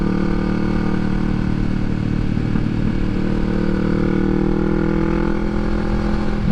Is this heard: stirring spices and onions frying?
no